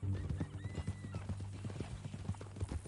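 A horse clip-clopping at a steady walking pace, with a whinny in the mix, moderately distant and fairly faint, no talk.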